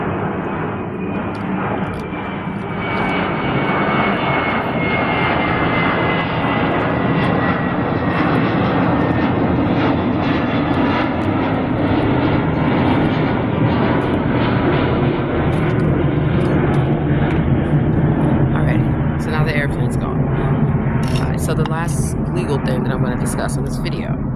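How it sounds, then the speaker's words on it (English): An airplane climbs overhead after takeoff, a loud continuous engine roar that fills the whole stretch and slowly shifts in pitch as it passes, with no clear speech audible over it. "there's another airplane going up."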